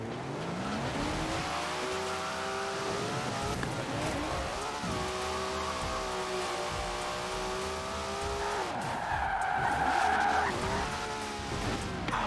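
A car in a racing video game drifts and skids, with long, loud tire squeals and a wavering engine tone that rises and falls through the slide. There is no talk over it.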